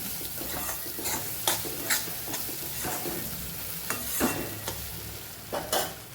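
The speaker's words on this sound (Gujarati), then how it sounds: "થોડીવાર આપણે ટીંડોળાને હલાવશું" Ivy gourd coated in gram flour is stirred in a pan, with repeated scraping strokes from a spoon over a steady frying sizzle, close and clear, without voices.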